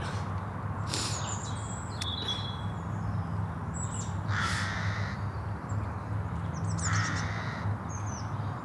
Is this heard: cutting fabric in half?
no